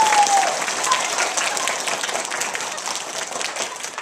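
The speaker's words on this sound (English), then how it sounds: "Now clap a little louder," Steady, dense applause from an audience at an environmental puppet show, a fuller wash of many hands clapping louder and continuously throughout, with no talking over it.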